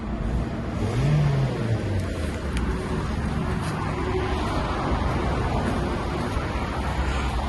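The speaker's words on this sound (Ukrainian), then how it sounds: "Двигун непоганий." A 2008 Mazda 6 engine runs steadily at idle, a low continuous hum with a brief rise in pitch early on, heard close up.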